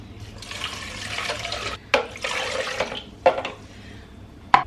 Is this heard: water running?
yes